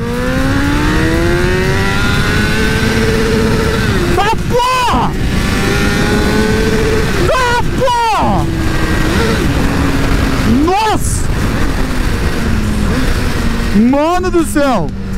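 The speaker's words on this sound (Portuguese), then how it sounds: "Ó, primeira, hein? Vou acelerar tudo, ó." A Honda CBR1000 Repsol sport motorcycle revs hard in first gear and climbs in pitch continuously toward 100 km/h, loud and close, with wind roar and a voice speaking over it.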